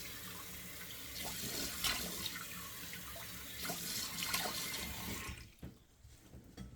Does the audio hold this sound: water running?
yes